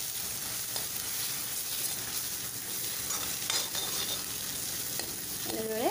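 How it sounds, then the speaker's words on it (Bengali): Egg being stirred and fried with onions in a hot pan: a steady sizzle throughout, with scattered scrapes of a spatula against the pan and a few louder clatters near the end. "কণীখিনি ভালদৰে পিঁয়াজৰ লগত মিলাই লম"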